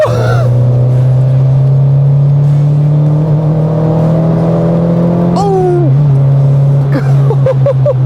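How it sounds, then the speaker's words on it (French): Prepared Peugeot 205 GTI engine revving hard from inside the car, a loud steady drone rising and dropping through gear changes, with sharp exhaust pops and crackles on the lift-off near the end. "il y a des petits retours à l'échappement"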